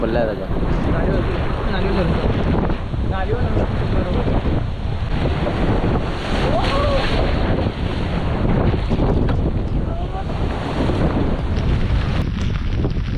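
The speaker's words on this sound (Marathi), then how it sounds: "वारा खूप होता लाटा येत होत्या" Strong storm wind roars against the microphone over the wash of waves on a boat in the Arabian Sea off Mumbai. Voices can be heard faintly beneath the steady buffeting.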